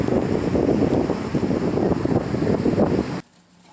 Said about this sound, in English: There's those 40-knot gusts that are moving me back and forth, moving everyone back and forth